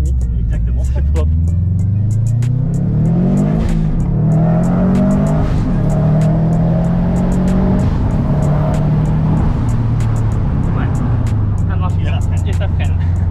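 A Subaru WRX STI with a GFB blow-off valve revs hard. Its engine note climbs and falls in repeated loud pulls, with sharp puffs between them, and voices talk over it.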